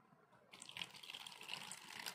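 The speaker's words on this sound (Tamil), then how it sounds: "தண்ணி ஊற்றியாச்சு" Drinking water pouring into a bucket for washing panchaloga metal items, starting abruptly after a quiet moment and continuing as a steady close gushing splash.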